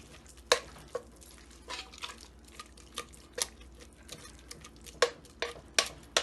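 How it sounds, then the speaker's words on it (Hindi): A utensil repeatedly mashes soft cooked chana dal (split chickpea lentils) in a pot, making irregular wet thuds and clinks at an uneven pace, close by. "देखिए दाल बहुत सॉफ्ट हो गई है। इसको थोड़ा सा घोट लेंगे।"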